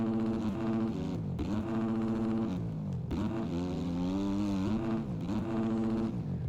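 A Triumph motorcycle engine labours over rough ground off road, its drone holding steady and then dipping and climbing in pitch as the rider pushes it over obstacles, close and continuous throughout.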